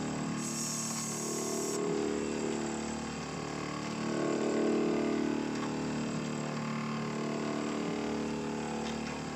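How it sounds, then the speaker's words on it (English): A CNC mill side-cuts a hole into a stepper motor mount, giving a continuous mechanical whir with two soft swells in pitch as the cutter moves around the pocket. The machining noise is moderate and constant. "It is now side cutting to make the hole larger, which is the indent for the stepper."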